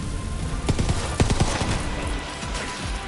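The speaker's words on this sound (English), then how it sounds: "the gun at his back went kaboom" Video game gunfire cracks out as a short burst of several rapid shots in the first half, over a dense bed of loud noise.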